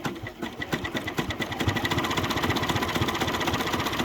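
A sewing machine stitches along a popped seam in a quilt with batting, starting with a few slow separate stitches and then speeding into a steady, rapid, close rhythmic chatter.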